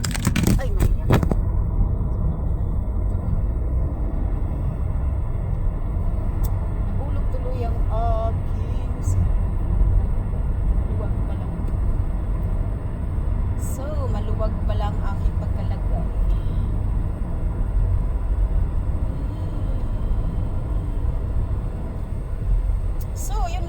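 A car drives slowly along a road lined with autumn trees, giving a steady, close, low road-and-engine rumble throughout, with occasional faint voices.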